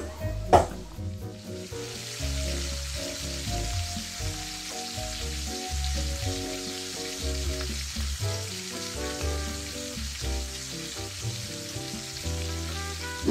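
Katla fish pieces sizzle in hot oil for a Bangladeshi-style curry. A sharp clatter comes first, then a continuous loud frying hiss with soft scraping of stirring underneath and no talk.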